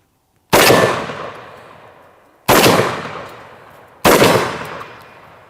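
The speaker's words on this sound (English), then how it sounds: "there's nothing cooler than a 10 gauge shotgun" Three loud, close blasts from a 10 gauge shotgun firing buckshot at plates outdoors, about two seconds apart, each sharp crack decaying into a long echo.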